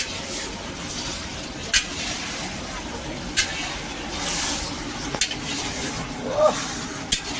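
Green chilli curry being stir-fried in a pan, a steady sizzling hiss with occasional sharp scrapes and clinks of a spatula against the metal, moderately close, no talking.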